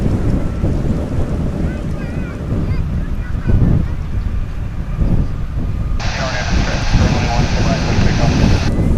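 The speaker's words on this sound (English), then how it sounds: "American Airlines Dreamliner Flight" An American Airlines Dreamliner arriving at DFW Airport produces a continuous low jet rumble under a steady background roar, with a commentator talking over it throughout.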